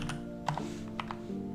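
Computer keyboard typing while writing code: a few soft, close key taps over a faint steady hum.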